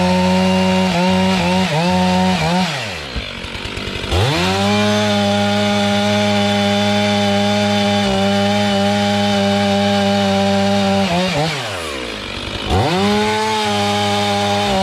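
A chainsaw idles and revs loud and close, its engine note dropping away twice as the throttle eases off and then climbing back to a steady high roar.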